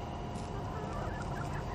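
A young rooster clucks close by in a short burst of busy fowl chatter, heard on its own with no talking.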